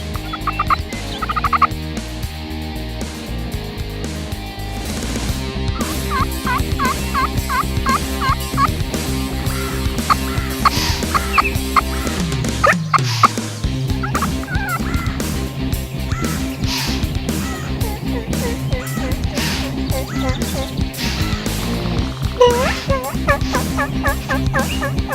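A wild turkey tom gobbles repeatedly in loud, rattling bursts from a distance in spring, joined by other gobbles and hen calls, over a continuous outdoor rumble.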